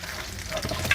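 A snack fries in hot oil, with a brief burst of crackling sizzle and light stirring close by.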